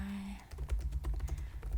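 Rapid computer keyboard typing during a beginner coding session, with close, clear keystrokes in a steady irregular patter and a soft low underlying thud, no voice over it.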